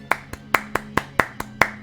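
Crisp, close hand claps from an applause emote in Final Fantasy XIV ring out in a steady rhythm, about eight of them in under two seconds.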